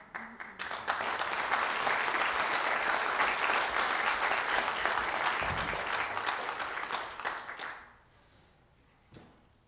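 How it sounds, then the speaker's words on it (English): Lecture audience applauding at a Holocaust and genocide lecture series event, dense sustained clapping for about eight seconds, then tapering off into a few scattered claps and quiet. "You applauding that kid?"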